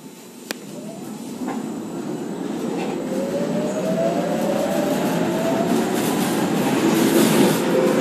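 A tram in Poznan rolls along steel rails with a steady rumble that slowly swells, a rising whine of motors, and a faint squeal of wheels near the end.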